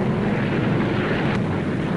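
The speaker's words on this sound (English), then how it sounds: "When West Berliners rose each dawn, it was again to the roar of planes." Steady, dense roar of Berlin airlift planes flying, a continuous broadband drone with no gaps, filling the air like distant engines overhead.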